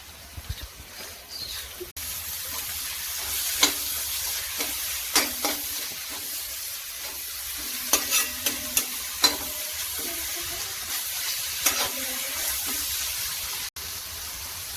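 Chopped tomato and green chilies fry in a pan for a Kerala-style chicken dish, a steady close sizzle with scattered spatula scrapes and taps throughout, briefly cutting out near the end.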